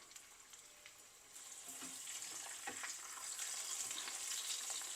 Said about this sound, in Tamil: இது கொஞ்சம் நல்லா கிறிஸ்பியாக ஃப்ரை ஆகட்டும்.